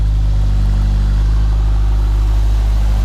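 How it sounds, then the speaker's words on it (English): A Renault car engine idles with a steady, low, throbbing hum close by as it is driven onto a home-built rolling-road dyno. "Got the Renault out, I'm going to chuck it on now."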